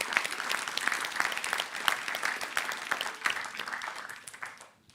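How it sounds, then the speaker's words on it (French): An audience at a glaciology science talk applauding a speaker, a dense, steady clapping from a roomful of people that fades out at the end. "On applaudit le monsieur."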